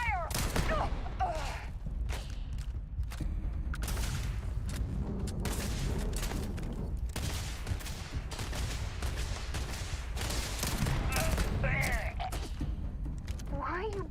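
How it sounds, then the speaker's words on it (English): Gunfire in the sci-fi video game Starfield comes as bursts of sharp shots and rapid volleys with booming impacts, mixed under frequent shouted in-game voices and background music. "Taking fire!"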